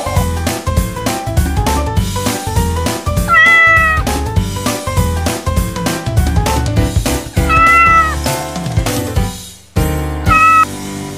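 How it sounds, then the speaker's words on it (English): A cat meows several times, clear and close, with rising and falling wavering cries set against a loud busy musical backing. "Cat."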